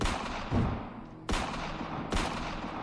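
Three sharp, evenly spaced gunshots ring out in a chase video game, each a loud crack with a short decaying tail over steady background noise.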